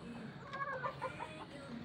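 Mother hens cluck in a short series of soft, throaty calls against a steady low farmyard background, heard from a modest distance.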